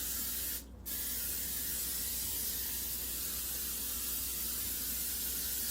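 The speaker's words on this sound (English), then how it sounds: "I'm going to spray my pan" Long, steady hiss of cooking spray sprayed onto a pan over a kitchen sink, broken by one brief pause near the start, then continuous and close, with no talk.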